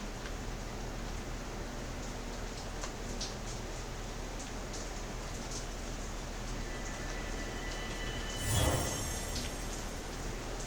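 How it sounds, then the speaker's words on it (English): Steady rainfall in Zelda: Tears of the Kingdom, a continuous even hiss of falling rain with a brief louder swell near the end, with no voices over it. "it's actually just started raining now"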